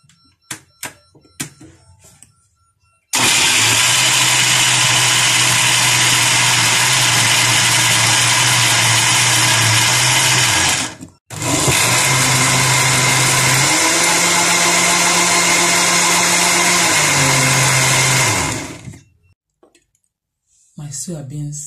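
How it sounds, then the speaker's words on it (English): A blender blending soybeans roars loudly and steadily for several seconds, briefly stops, then runs again with a shifting pitch before cutting off; faint clicks before and after. "I have to blend the soybeans"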